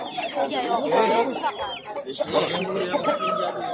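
Chickens and chicks cluck and peep in a busy bazaar, the birdcalls mixed into steady crowd chatter and nearby talking voices throughout.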